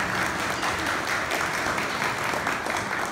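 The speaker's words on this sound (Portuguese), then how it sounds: "quero um aplauso para ela" Steady audience applause at an association's accountability meeting fills the whole stretch, dense and even with no pauses, and only faint voices are mixed into it.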